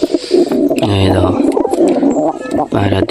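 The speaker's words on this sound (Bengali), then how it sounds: "পায়রা দেখছো বন্ধুরা" Pigeons coo in a close, repeated, throaty series, with a second burst near the end and chirps and rustling mixed in.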